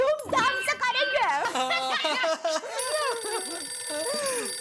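A telephone rings amid a lively indoor scene with voices talking and laughing, and its bright, repeating electronic ring continues steadily over the chatter in the second half.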